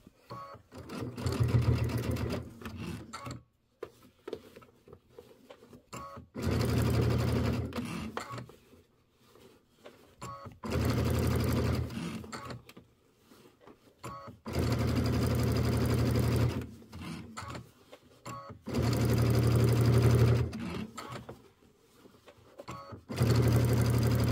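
A sewing machine stitches a Kimberbell mini quilt in five or six steady bursts of rapid whirring needle action, separated by short quiet pauses, close and clear with no speech.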